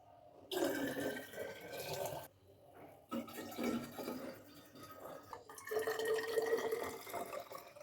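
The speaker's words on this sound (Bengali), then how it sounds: "তো চলো জলটা ভরে নিই।" Water running and splashing as a flask is filled in a home kitchen on a winter morning, in three bursts with brief pauses between them, fairly close and steady.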